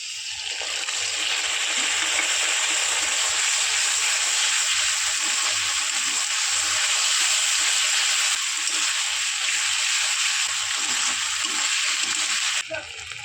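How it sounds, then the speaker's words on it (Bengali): Ginger-garlic paste fries with onions in a pan, giving a loud, continuous hissing sizzle that holds steady, with faint low stirring and background murmurs beneath it. "পেঁয়াজটা ভাজা হয়ে গেছে এবার দিয়ে দেবো আদা রসুন বাটা"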